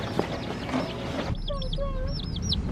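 Baby chicks in a cardboard box cluck and cheep, a soft muffled rustle giving way to several high, clear peeps close by.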